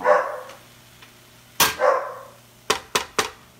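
Dogs barking inside a home during a cooking session: a loud bark, then a double bark, then a quick run of three sharp barks close by, with no talk over them.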